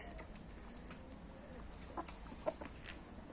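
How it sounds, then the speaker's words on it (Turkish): Laying hens kept for eggs cluck softly in a coop, scattered short calls rising faintly over a quiet, low background. "Bunlar da yumurta aldığımız tavuklarımız"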